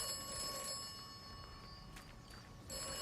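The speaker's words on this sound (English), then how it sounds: "What did I say earlier about that phone starting to ring again?" A telephone rings in the game Atomfall, a steady electronic trill with bright repeating tones over low ambient background, holding for a few seconds.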